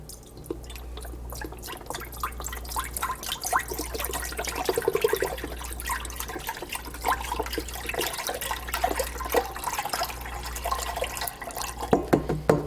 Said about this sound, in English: I got some vegetable stock. I'm just going to dump the whole thing in there.